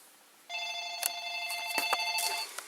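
A telephone rings steadily with a continuous electronic warble, with a few clicks and knocks over it, and then cuts off.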